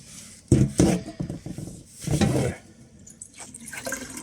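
Tap water runs into a kitchen sink as pickling onions are rinsed, with two louder surging bursts of splashing flow and quieter trickling between them, close by and with no talk.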